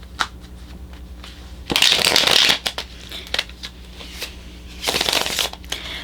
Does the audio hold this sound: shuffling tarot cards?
yes